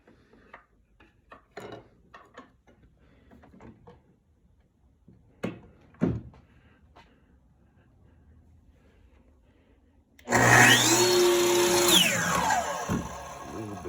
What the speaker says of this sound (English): I drilled a hole in one end.